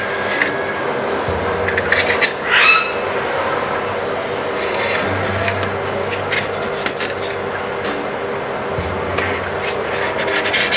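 A pizza cutter rolls and rasps through a freshly set, still-warm ragi granola bar, giving soft scraping strokes at close range with a brief sharper scrape near the start and no talk.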